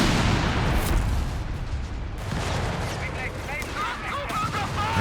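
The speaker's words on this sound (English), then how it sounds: "Contractor artillery dropped down." An artillery barrage landing in Company of Heroes 3, heard as loud, rumbling blasts that fade as a commentator talks, with scattered battle noise continuing underneath.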